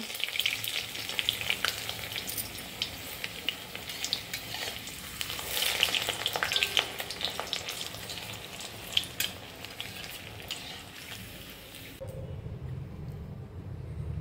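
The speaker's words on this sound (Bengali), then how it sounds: "এবার এগুলো আমি ভেজে নেব। এখন আমি একটা একটা করে ভেজে নেব।" Papads stuffed with a spiced soybean and potato filling frying in oil, a loud, bubbling crackle that swells and spits for about twelve seconds before abruptly dropping to a quieter low rumble, no talking.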